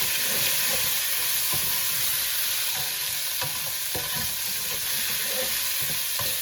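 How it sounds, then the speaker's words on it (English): Drained canned corn is stirred into rice frying in a pan for green Mexican rice, with a loud, steady sizzle and hiss throughout and faint spoon scrapes over it, close up. "we're gonna go ahead and add the whole can of corn that you already drained. We're gonna add it and mix it."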